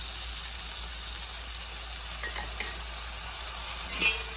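Sliced onions with curry leaves and ginger garlic paste frying in a pan, a steady soft hissing sizzle with a couple of faint clinks of stirring.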